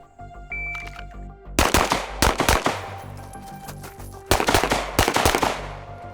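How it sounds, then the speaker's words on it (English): Pistol shots fired at several targets during a movement shooting drill, sharp loud reports in quick pairs and short strings separated by pauses, heard close with no talking. "I'm going to draw to the target in front of me, shoot that guy, shoot the guy in the middle"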